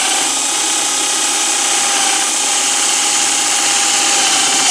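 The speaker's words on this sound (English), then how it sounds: "I'm just going to use this die grinder." A die grinder cuts into the plastic air box on an SLP Powder Valve intake install, giving a steady, loud high-pitched whine that holds constant and close throughout with no pauses.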